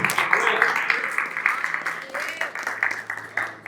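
A church congregation applauds, giving a steady patter of many hands that rises and swells in waves, with a voice speaking over it.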